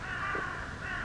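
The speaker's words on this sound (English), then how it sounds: "And the constant sound of crows." Crows caw steadily in a quiet forest level of the video game Trespasser, a continuous background of calls without pause or talk.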